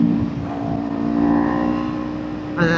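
Car engine running steadily in low gears while driving slowly uphill, its tone rising and falling across gear changes with a brief whir at the end.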